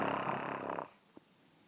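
A voice imitates a dog snoring with one long, breathy snore lasting under a second, followed by quiet and a single faint click.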